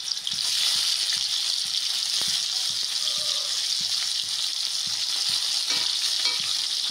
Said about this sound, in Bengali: এবার তেল গরম করে মাছগুলোকে কড়াই দিয়ে দেবো।